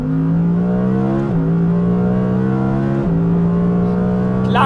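Audi R8 GT ten-cylinder engine revving hard under acceleration, a loud, steady, close engine roar that rises in pitch, drops briefly at two gear shifts, then climbs again, heard from inside the car with no talk.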